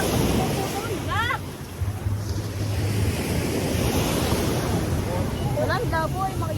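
Sea waves wash steadily at Bagac Bay beach while wind buffets the microphone, a continuous loud roar with faint voices and bird-like chirps surfacing briefly.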